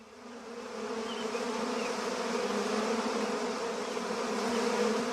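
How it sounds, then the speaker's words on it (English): Bees swarm over sugar, a steady, dense buzzing hum that holds close and fairly loud throughout, with no talking. "Bad bees! Bad!"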